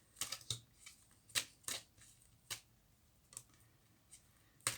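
Tarot cards being shuffled by hand for a six-card love reading: soft, irregular bursts of card riffling and flicks with short pauses between them, close and fairly quiet, with no speech.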